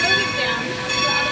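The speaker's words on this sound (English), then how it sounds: "This was the train we just took." A heritage steam train stands at the Strasburg Railroad station in Lancaster, Pennsylvania, with a tonal hiss and hum held throughout and a voice speaking over it.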